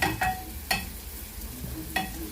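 Pork pieces browning in a hot pan give a steady sizzle with a few sharp stirring scrapes, close and clear, with no talking.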